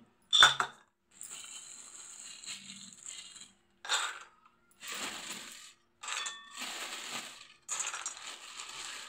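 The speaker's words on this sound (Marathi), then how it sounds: "तर आता आपण 1 वाटी शेंगदाणे घेऊ।" Raw peanuts poured and measured into a small metal bowl for jaggery chikki, several short bursts of rattling, clinking nuts separated by pauses, close and fairly quiet.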